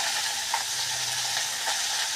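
Fish pieces fry in hot oil in a pan, giving a steady, close sizzle with faint stirring scrapes and no talk.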